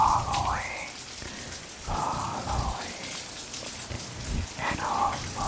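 Steady rain pattering on a surface, a soft continuous patter with low thumps, and a few faint tonal squeaks drifting over it.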